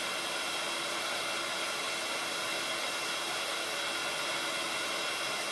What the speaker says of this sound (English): Now I need my heat gun.